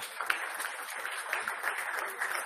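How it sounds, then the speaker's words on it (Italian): Steady applause from a crowd, fairly quiet and even, with many hands clapping at once for a couple of seconds. "merita un altro applauso"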